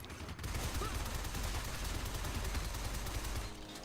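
WSM M400 gunfire in Shadow Complex Remastered on PC, a sustained close burst of rapid shots rattling without pause for about three seconds before dropping away.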